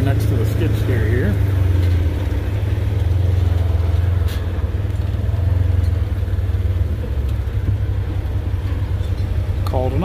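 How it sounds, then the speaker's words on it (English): An old Ford Ranger truck idles with a steady low rumble while being parked beside a skid steer on a Kansas farm, someone speaking over the engine noise. "Park the old Ranger next to the skid steer here."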